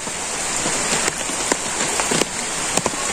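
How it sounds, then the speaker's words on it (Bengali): Steady rain patters down in a rural village, a dense continuous hiss with scattered brighter drops landing close by, no voices. "বৃষ্টি নামলা রে"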